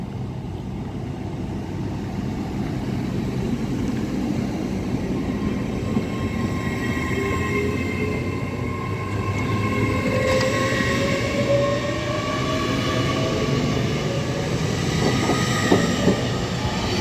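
An LNER Azuma class 800 unit running through Grantham station, a loud, steady rumble with rising motor whine and faint wheel squeal as it passes close by.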